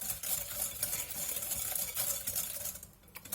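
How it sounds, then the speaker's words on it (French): Beaten eggs and white sugar are stirred briskly in a bowl, giving soft continuous scraping and sloshing with light taps of the utensil against the sides, faint and close. "On va venir bien mélanger."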